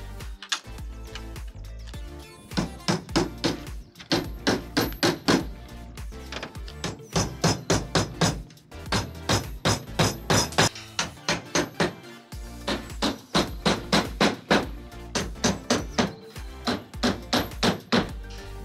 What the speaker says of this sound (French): On les cloue tous comme ça avec les premières pattes.